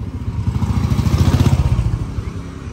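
Royal Enfield Bullet motorcycles ridden by young men on a street in Pokhara, Nepal, their thumping engines rumbling loudly past at close range in a steady, throbbing rhythm for a few seconds.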